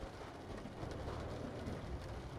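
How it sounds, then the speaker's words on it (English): Rain falls steadily in Euro Truck Simulator 2 on an Italian road from Taranto to Catanzaro, a soft continuous hiss with a low rumble underneath and no talking. "Yeah, I increased the rain chance."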